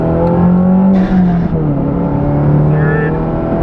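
A 2022 Subaru WRX fitted with a Perrin front pipe pulls hard in second gear, its engine note climbing steadily under load, loud and close from inside the cabin.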